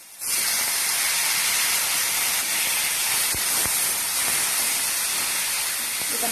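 Finely chopped tomatoes go into a hot pan with onions for tomato soup, setting off a loud, steady steam-like hiss that holds for several seconds, close up, with no talk.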